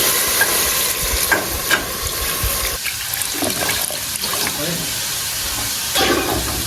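Water poured into a pan of sizzling khaga fish curry, a loud steady hiss and splash with frying crackle throughout, a few sharper bursts and clinks along the way.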